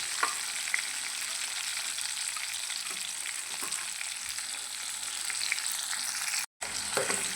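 Chopped shallots and green chilies fry in oil in a steel pan, giving a steady close sizzle with faint scraping stirs and a brief silent gap near the end.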